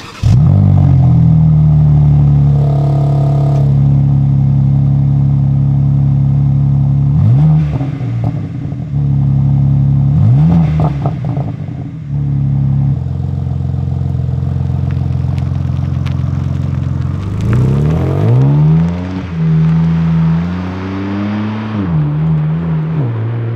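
A BMW M4 CSL on a morning drive, its engine droning loud and steady throughout, with several clear rev rises and gear changes as it accelerates and shifts.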